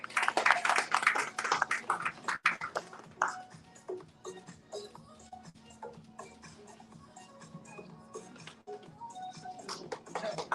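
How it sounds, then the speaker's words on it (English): Audience applause at an officers' induction ceremony, loud and dense at first, then thinning to scattered claps and shuffling with some background voices. "Let's give them another round of applause"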